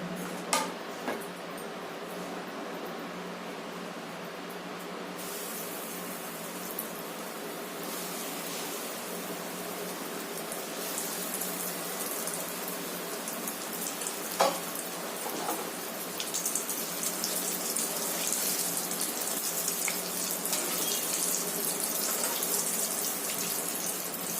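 Chilli paneer pieces fry in hot oil in a home kitchen, giving a continuous crackling sizzle. Scattered pops and clicks come through, and the hiss grows louder partway through. No one talks.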